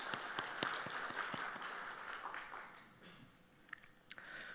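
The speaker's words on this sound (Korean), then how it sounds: "우리 10지역을 위해서 다시 한번 격려의 박수 하겠습니다" A church congregation in Korea applauding after a special hymn at a dawn service, with scattered, fairly faint clapping that thins out and fades over a few seconds.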